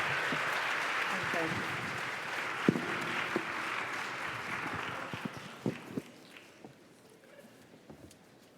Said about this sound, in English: Let's give our Student Senate a round of applause.